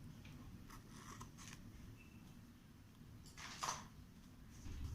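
Scissors cutting through a length of ribbon while decorating a book, giving a few soft, faint snips and rustles in a quiet room, with one slightly sharper cut near the end.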